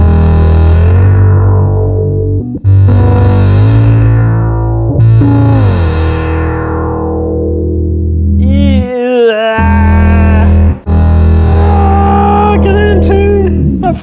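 A bass played high on the neck through an Electro Harmonix Bass Micro Synthesizer gives long, buzzy synth notes that fade slowly, then a run of notes that jumps sharply between pitches as the effect tracks them, loud and up close.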